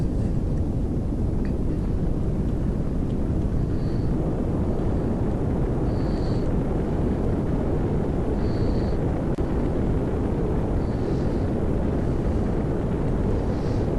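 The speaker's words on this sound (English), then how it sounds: "I'm actually burning down on re-entry here because I can, really." Spacecraft atmospheric re-entry in Kerbal Space Program, with the engine burning during descent: a sustained heavy rushing roar, loud and even throughout, with a few faint high tones over it and no voices.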